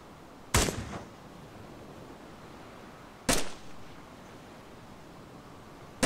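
Gunfire in the video game DayZ: two sharp, fairly distant-sounding shots with brief echoing tails a few seconds apart, and the start of a third at the end, over a steady hiss of background noise.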